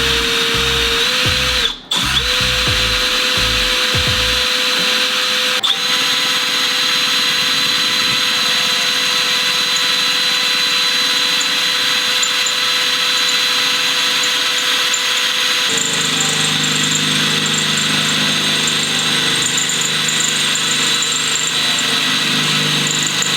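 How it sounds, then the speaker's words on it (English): A power drill whines steadily and loudly for the whole stretch while boring a large hole for a Tacoma roof rack awning mount, with a brief thump early on and a pitch shift partway through. "And I'm gonna drill my bigger hole."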